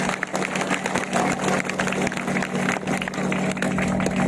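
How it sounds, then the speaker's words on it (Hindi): Loud, dense clapping from a seated audience at a motivational talk, continuous and roomy with a steady hum beneath it. "उनके लिए एक जोरदार तालियां बनती है।"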